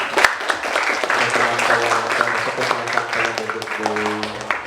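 Classroom audience applauding after a group presentation, a dense patter of clapping at moderate loudness mixed with voices talking over it throughout.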